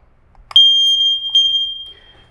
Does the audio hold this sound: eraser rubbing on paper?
no